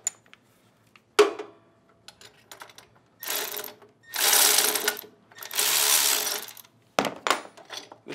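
C-clamp being loosened on a GrowoniX GX1000 reverse osmosis membrane housing: a sharp metallic clack, then several bursts of harsh scraping and grinding of a few seconds each, near and fairly loud, ending with more clicks.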